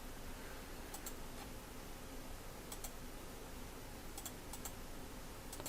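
Soft keystrokes on a computer keyboard while a folder path is typed in, scattered light clicks in small clusters over a quiet background hiss.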